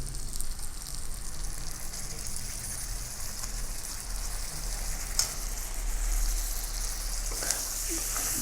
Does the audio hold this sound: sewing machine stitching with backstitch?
no